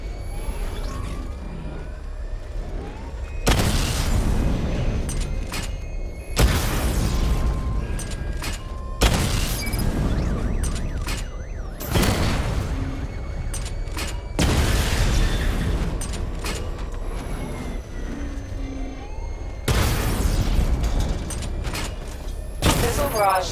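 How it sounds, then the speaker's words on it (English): Missile barrage explosions from the Batmobile in Batman: Arkham Knight, a series of heavy booming blasts arriving every few seconds, loud and close, with mechanical whirs between them. "Charge the missile barrage to level 2 to destroy up to 4 targets at once"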